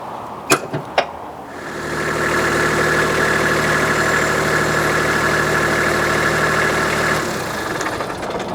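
A tractor engine fires up and settles into a steady, loud idle with a low rhythmic chug, preceded by a couple of sharp clicks, then drops back toward quiet near the end.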